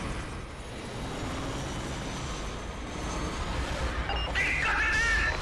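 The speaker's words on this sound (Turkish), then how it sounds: "geldi bize çarptı koca helikopter" A helicopter in Call of Duty 3 drones steadily with a rough engine rumble that grows slightly louder toward the end, where a higher whine joins in.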